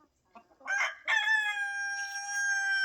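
A few soft chicken clucks, then a loud, drawn-out crowing call held steady for nearly two seconds, close by with no talking.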